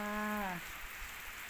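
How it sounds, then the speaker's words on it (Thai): Steady rain falls on a rural Thai farm, a soft continuous hiss that opens under a short animal bleat fading out in the first half second. "วันนี้ฝนตกนะคะ บ้านบุญล้อมฝนตกค่ะ"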